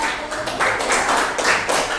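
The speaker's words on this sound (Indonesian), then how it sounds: "berikan tepuk tangan ke kelompok" A classroom group claps for a student team after a presentation, a brief burst of hand claps filling the room at steady loudness for about two seconds.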